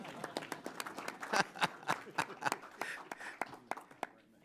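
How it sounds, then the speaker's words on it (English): Scattered applause from an audience at a congressional committee hearing on internet legislation, welcoming a former congressman; uneven, sparse clapping of a modest crowd, moderately faint, lasting a few seconds. "you could clap for Ron"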